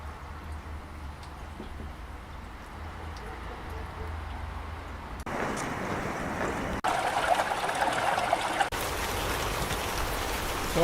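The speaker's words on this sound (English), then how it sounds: "Thunderstorm." A thunderstorm loop from a melodic house sample pack, with steady rain hiss that swells into heavier, denser downpour in distinct stages, continuous and fairly loud without clear thunder cracks.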